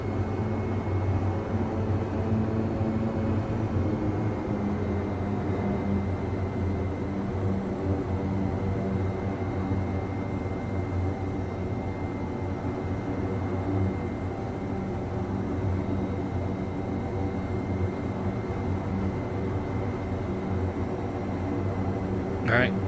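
Aircraft engine drone on final approach in Microsoft Flight Simulator 2024, a steady, even hum with constant tonal layers that holds at moderate level throughout, with no change in pitch or loudness.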